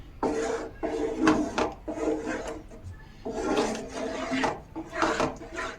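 Leftover-rice batter with sesame seeds mixed in a bowl, giving close, loud rasping scrapes in repeated bursts with short pauses between.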